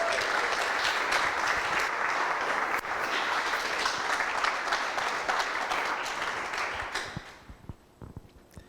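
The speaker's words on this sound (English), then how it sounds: "So let's give them a huge round of applause" Applause from a demo day audience in Montreal fills the room, steady and dense for about seven seconds before tapering off into a few scattered claps.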